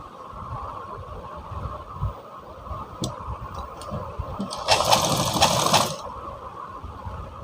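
A sewing machine stitches a blouse in a short burst of rapid, whirring mechanical clatter, preceded by soft handling clicks and quiet room noise.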